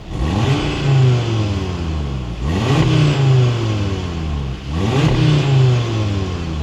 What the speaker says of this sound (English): let me rev it in normal mode